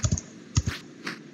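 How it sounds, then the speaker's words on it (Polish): Arrow keys on a computer keyboard clicked during a Jump King session in its snowy area: two quick clacks, a pause, then another close pair and a fainter click, near and crisp with no talking. "Niepotrzebnie klikam strzałkę"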